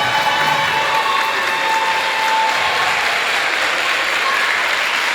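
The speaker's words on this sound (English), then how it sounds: "Let's give them all a round of applause." An audience at a fifth-grade promotion ceremony claps steadily for standing teachers, faculty and staff, a dense even wash of many hands filling the room for several seconds.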